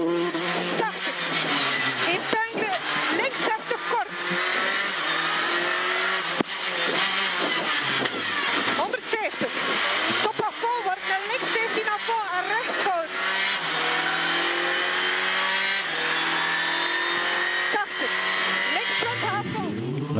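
Citroën DS3 rally car on a stage of the East Belgian Rally, engine revving and shifting continuously with rising and falling pitch, loud and sustained throughout.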